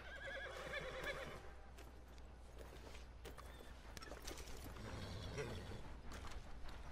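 A horse neighs and whinnies in a video game, with hooves clip-clopping and some creaking mechanical sounds over a steady low background hum.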